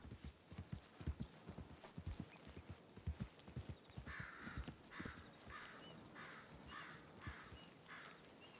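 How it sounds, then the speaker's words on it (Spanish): Horses walking in Red Dead Redemption 2, a steady run of soft clip-clop hoofbeats close by, with crows cawing in the distance and no talking. "Oh, caballos aquí, tío."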